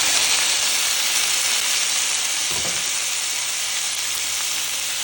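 Tomatoes sizzling in a hot oiled pan as the base for ginisang ampalaya, a Filipino sautéed bitter melon dish: a loud, continuous close-up frying hiss with a brief stir partway through and no voices.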